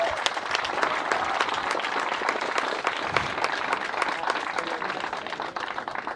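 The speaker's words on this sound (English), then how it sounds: "Big applause again." Crowd applause at the trophy presentation of a tow-in surfing final, dense continuous clapping from many hands at an even level throughout, with faint voices mixed underneath.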